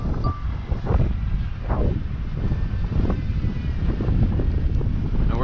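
Wind buffets a microphone while a DJI Mavic Mini drone flies in Missouri, giving a loud, continuous rumbling roar with rhythmic gusting swells throughout and no talk.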